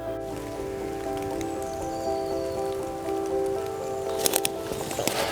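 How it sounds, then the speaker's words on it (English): Steady rain patters on surfaces in a dense fog-bound landscape, a continuous wet hiss with a constant low hum underneath and a few sharper drips near the end, no voices. "The rain's eased up a little bit"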